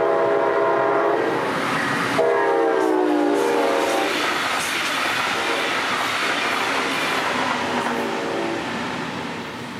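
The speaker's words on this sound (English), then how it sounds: "another South Florida-bound bright line hauling southbound through downtown" Brightline passenger train hauling southbound through a Florida downtown on the Florida East Coast Railway, a loud sustained horn blast over the rumble and clatter of passing cars, gradually fading.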